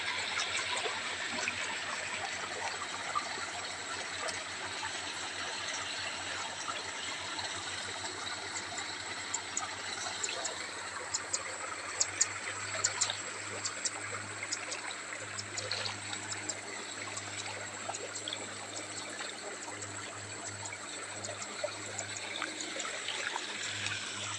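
A steady, faint trickle of flowing water in a small stream beside rice fields early in the morning, continuous and gentle, with scattered tiny splashes and no voices.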